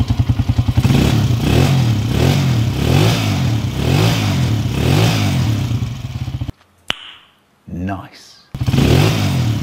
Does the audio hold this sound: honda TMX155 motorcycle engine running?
yes